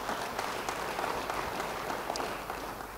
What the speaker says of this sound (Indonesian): yang mengerti beri tepuk tangan bagi dia